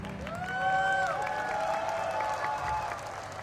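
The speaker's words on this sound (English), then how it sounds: "So I can hear those loud cheers, right?" An audience at a play school's annual sports day ceremony claps and cheers in a short swelling burst, with whistle-like tones over the crowd noise.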